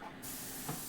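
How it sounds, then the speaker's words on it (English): Airbrush spraying paint onto Warhammer Warcry terrain from above, a steady close hiss that starts abruptly and runs on evenly. "we'll just spray this from above and kind of far away"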